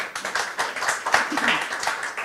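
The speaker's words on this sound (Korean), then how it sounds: "박수 부탁드리겠습니다." Applause from the audience at a political forum in Daegu, a short burst of scattered, uneven clapping from a modest crowd, close and fairly loud, with some voices mixed in.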